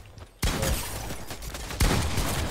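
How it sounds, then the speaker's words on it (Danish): Gunfire erupts in the video game Fortnite, two loud bursts of rapid shots following a quiet opening, each one sharp and dense, heard alone without voices. "Han bliver skudt på os."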